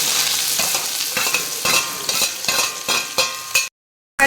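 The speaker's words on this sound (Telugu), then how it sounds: "కట్ చేసి పెట్టుకున్న ఆనియన్స్ని వేసుకున్నాము. ఇప్పుడు దీన్ని బాగా వేయించుకోవాలి." Onions fry with urad dal and moong dal in a pan, a close loud sizzle broken by repeated scraping stirs in an uneven rhythm, ending in a brief silence before the sizzle returns.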